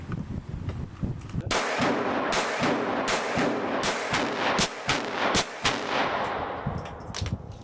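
A small pocket pistol fires rapidly during an endurance session, a dense string of sharp shots in quick succession with slight irregular gaps, loud and close.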